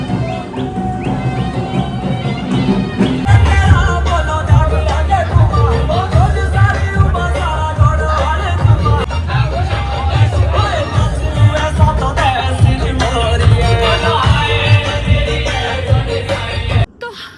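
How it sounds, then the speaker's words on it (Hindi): Dense, steady crowd hubbub at the Mandi Shivratri fair, a continuous babble of many voices close around, with scattered shouts and faint bird-like chirps mixed into the din throughout. "और अब हम जब वापस हो रहे तब भी इतनी ज़्यादा भीड़ है"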